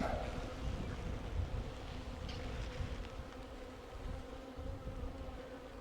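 Honeybees being installed into an observation hive give a steady, close insect buzz throughout, with a low background rumble and no voices.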